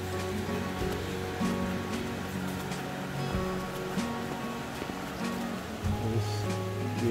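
A stream flows through the Nozon gorge, a steady close wash of running water that continues without a break beneath faint background noise.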